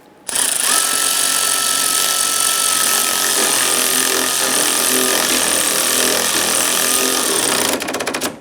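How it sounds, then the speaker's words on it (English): An electric ratchet runs a bolt into a rear sway bar link on a 1997-2006 Jeep Wrangler, giving a continuous loud, high-pitched mechanical whir that lasts about seven seconds and then stops abruptly. "I'm going to use my electric ratchet here to go ahead and run that bolt in."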